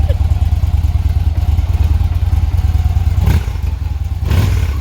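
A motorcycle engine runs close by, giving a loud, steady, thumping mechanical drone. A couple of brief knocks or clatters sound near the end, and a voice is faintly heard under the engine.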